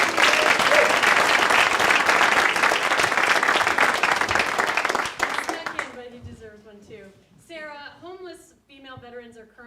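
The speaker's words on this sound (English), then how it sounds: "And we can give David a round of applause." Audience applause after a check presentation speech, loud and dense for about five seconds, then fading into scattered claps as a speaker begins talking.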